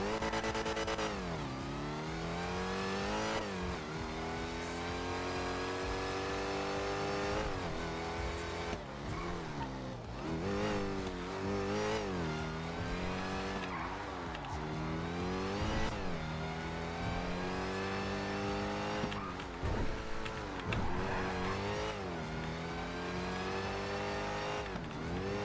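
Car engine in GTA RP revving hard and shifting through gears repeatedly, a loud, close, continuous roar rising and falling in pitch with no talk.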